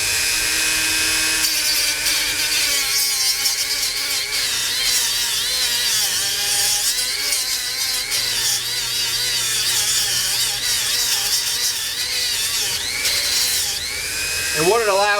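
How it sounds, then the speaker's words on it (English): A Dremel tool with a turned-down shank dresses off casting marks on a Yamaha FZ600 wheel being prepped for paint, producing a sustained, close, buzzing grind that shifts slightly in pitch, with a voice audible over it at times. "it allows me to dress off some of those casting marks"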